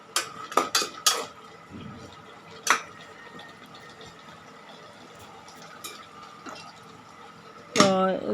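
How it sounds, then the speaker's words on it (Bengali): Ash gourd pieces cooking with pabda fish are stirred in a pot, giving a few loud metal spoon clanks and scrapes early, quieter handling later, and a final clatter, with faint background noise. "এই তো দেখেন আমি সুন্দর করে নাড়াচাড়া করতেছি"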